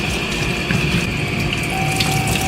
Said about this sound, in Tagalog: Tsaka mo pupunduhan ng tubig.